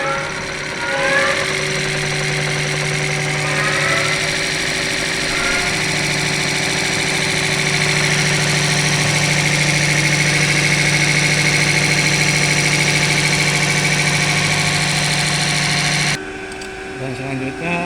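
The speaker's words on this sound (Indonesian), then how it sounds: "Dan sekarang bospom akan dioperasikan." A Bosch diesel injection pump for a Colt Diesel Canter 125 PS running on a test bench at 800 rpm: a loud, steady mechanical drone with a shifting whine that cuts off abruptly near the end.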